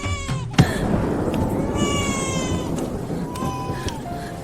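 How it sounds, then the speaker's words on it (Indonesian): A cat meows several times in drawn-out, wavering cries over a soft, steady background hiss. "Ini kucing liar."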